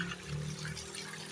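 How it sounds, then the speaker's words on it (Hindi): Spring water flowing out of a pipe at a mountain spring in Azad Kashmir: a faint, steady trickle and gurgle, brief and alone. "ये पाइप लगा हुआ नज़र आ रहा है और वो पानी अंदर से निकलता है"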